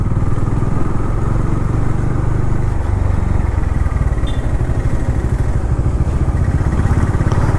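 Motorcycle engine running steadily and loud during a motovlog ride on a bike with fresh tires, a constant close throbbing drone with wind rumble, no talking.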